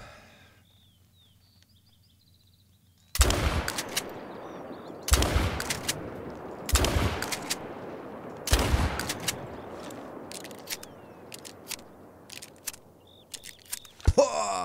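A pump shotgun loaded with slugs fires at a peccary in theHunter: Call of the Wild, Mexico: four loud, sharp blasts spaced a couple of seconds apart, each with a rolling echo, over quiet outdoor ambience and a final shot near the end.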